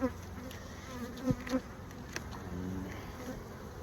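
Honeybees buzz steadily around an open hive during an inspection, a dense droning hum with a few louder bees passing close by.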